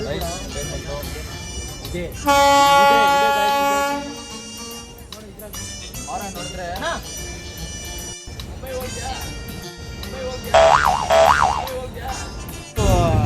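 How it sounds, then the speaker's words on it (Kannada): A dirty Indian passenger train bound for Mumbai rumbles in with loud horn blasts and rolling clatter, while people talk nearby on the platform. "ಟ್ರೈನ್ ಬಂತು."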